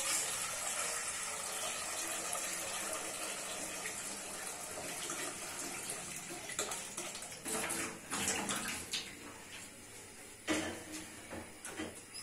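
Tap water runs steadily into a pot being filled for tea in a home kitchen, a continuous close splashing stream, with a few knocks and clatters toward the end.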